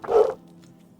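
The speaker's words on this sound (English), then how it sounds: "I apologize if you guys can hear the dogs going off their tits." Dogs barking in a house, heard as one short, loud bark up close, then quiet.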